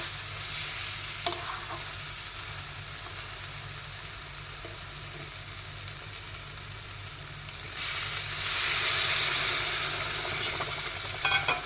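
Potatoes and spice paste frying in a pan give a steady sizzle, then water is poured in and the hiss surges louder and brighter, with occasional stirring clinks, close up and without talk.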